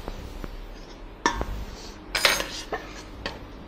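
A ladle clinks against a metal pot while scooping cooked fava beans, with a few sharp metallic knocks and scrapes close by amid a quiet kitchen.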